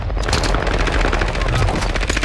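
Dense, continuous automatic gunfire crackles loud and close in a chaotic video game firefight, rapid shots blurring into a steady roar with no clear gaps.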